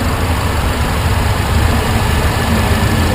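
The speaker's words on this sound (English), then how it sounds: "You got your 4-cylinder supercharged engine." The 4-cylinder supercharged engine of a 2012 Mercedes-Benz C250 runs at idle, a steady loud low rumble with a constant mechanical hum, no voices.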